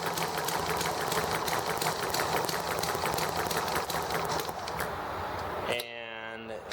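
Generators 2 and 3 on the ET1 being spun up, a rapid mechanical whirring chatter with a steady beat like a sewing machine that runs continuously, then shifts to a rising tonal whine near the end.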